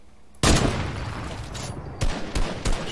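Sharp gunshots in a shooter video game, one loud crack followed by a roaring tail, then three quicker shots near the end, close and punchy with no talk.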